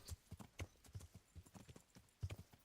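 Horse hooves clip-clopping in the video game Kingdom Come: Deliverance, a quiet, uneven string of close hoof thuds at a walking pace, with no speech over them.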